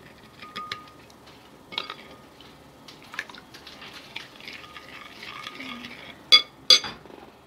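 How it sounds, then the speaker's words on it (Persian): Gummy candy mixture being stirred in a pot with a spoon: soft continuous scraping and swishing with scattered light clinks of metal on the pot, and two sharper clanks near the end. "همینجوری هم میزنیم تا مخلوط شه"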